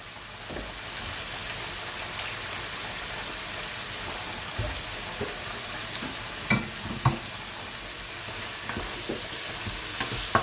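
Onions sizzling in a hot pan, steady hissing fry with occasional scraping and clacks as a utensil stirs and mixes them, close and fairly loud, no talking.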